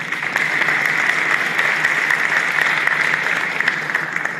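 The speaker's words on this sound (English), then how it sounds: "let's get a round of applause for these 4 players." Sustained audience applause at the Oak Hills High School signing day ceremony, a steady, dense wash of clapping from a crowd lasting several seconds without letting up.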